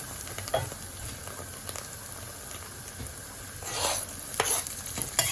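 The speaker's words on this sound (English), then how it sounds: "Now I'm going ahead and adding in fresh green chillies" Fresh green chillies frying in a pan of lamb karahi, a low steady sizzle with occasional stirring scrapes and clinks that grow busier toward the end, no voices.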